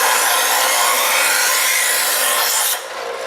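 A knife blade grinds against a spinning diamond sharpener, a loud, steady, hissing rasp that holds for about three seconds and then drops abruptly as the blade lifts away.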